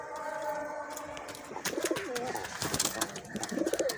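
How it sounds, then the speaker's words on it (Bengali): Large homer pigeons in their coops give low, throaty coos, two clear bursts rising over a soft background of rustling and faint chirps. "বড়ো সাইজের হুমার পায়রা আছে"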